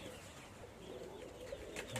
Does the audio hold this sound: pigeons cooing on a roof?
yes